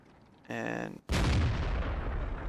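Tank cannon firing in World of Tanks, a single sharp loud blast that follows a short tonal whine and then rolls into a long roaring decay.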